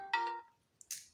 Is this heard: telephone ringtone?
yes